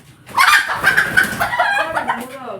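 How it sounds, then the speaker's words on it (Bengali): Chickens cluck and squawk close by in a short, busy burst, with a few overlapping calls. "মুরগি"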